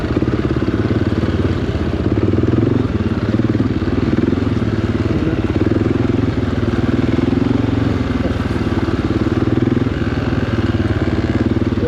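An off-road motorcycle rides a trail at Hanthana in Sri Lanka, its engine a close, continuous mid-pitched drone with a slight rattling texture that holds steady for the whole stretch.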